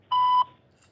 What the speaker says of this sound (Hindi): यहाँ पर आपको एक बीप की आवाज़ सुनाई पड़ती है